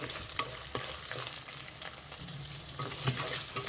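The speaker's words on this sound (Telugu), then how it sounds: "ఒక నాలుగు వెల్లుల్లి రెబ్బలు చిత్తకుట్టి పెట్టుకున్నా అవి వేసేసా ఈ వెల్లుల్లి కూడా బాగా వేగాలి" Crushed garlic cloves and lentils fry together in a pan, a continuous soft sizzle broken by scraping stirs and small pops, one louder crackle near the end.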